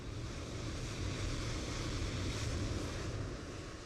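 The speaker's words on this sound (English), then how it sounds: "I don't even know what engine is running over there." A loud, steady engine roar from an aircraft in Microsoft Flight Simulator 2024, near an A320 on the runway centerline, holding continuously with a broadband rumble and no talking.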